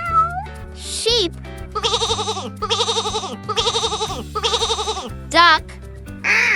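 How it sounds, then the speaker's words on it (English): Sheep bleat in four wavering, quavering calls in a row, loud and near, set over cheerful background music with short synth swoops before and after. "Sheep."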